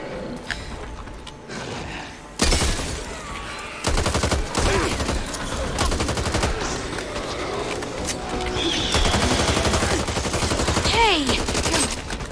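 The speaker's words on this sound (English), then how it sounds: "Machine gun over here." Machine gun fire in a video game rattles out in dense, loud bursts that stretch across most of the stretch, mixed with other game noises and occasional voices.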